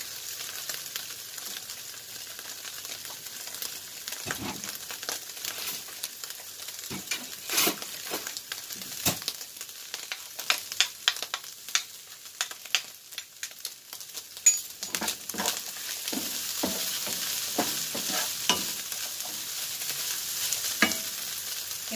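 Vegetables and hotdog pieces frying in a non-stick pan for fried rice, a steady close sizzle with scattered pops and crackles growing busier toward the end.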